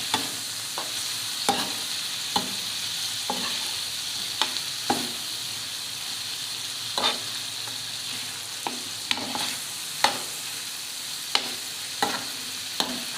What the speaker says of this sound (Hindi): मसालों को ऐड किया और फिर खूब अच्छी तरह से इसको हमने भूनना